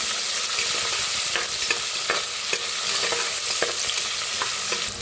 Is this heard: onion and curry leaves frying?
yes